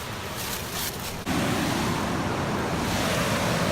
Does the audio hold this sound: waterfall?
yes